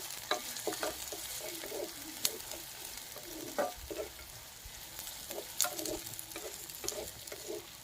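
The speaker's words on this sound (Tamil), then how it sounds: "வெங்காயம் பொன்னிறமாகிற அளவுக்கு வதக்கிக்கலாம்." Chopped onions and mutton liver sizzle in a pan, Chettinad style, with a steady low frying hiss and scattered stirring scrapes and clinks up close, and no talking.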